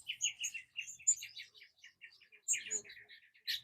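Small birds chirp in a garden with quick, bright, high twittering phrases in two bursts, fairly close and clear against an otherwise quiet background.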